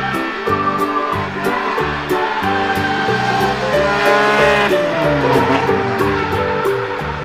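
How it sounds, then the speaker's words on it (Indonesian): Toy race cars make loud, continuous electronic racing noise with revving engine tones and tire-squeal effects, over a busy musical jingle throughout. "Wahai, mobil balap,"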